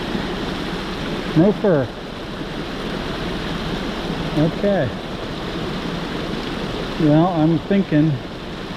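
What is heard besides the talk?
fast-flowing creek water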